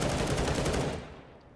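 Counter-Strike gunfire: a dense, loud burst of rapid shots fills the first second, then cuts off and fades into a short echoing tail.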